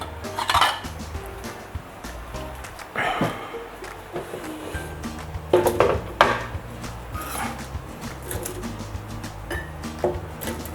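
Dishes and cutlery clatter in a home kitchen as a plate is taken out to serve air-fried plant-based crispy pork, a series of clinks and knocks spread through the clip with low background noise.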